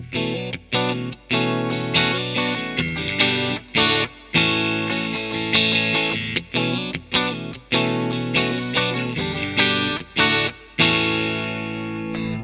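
An electric guitar with all three pickups engaged together plays a choppy, distorted rhythmic riff, loud and close with effects, closing on a held ringing chord, with no talking.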